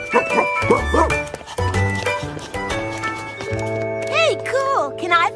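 A cartoon dog barks several times in quick bursts, loud and close, mixed with animated music and bright tonal effects; voices talk around it.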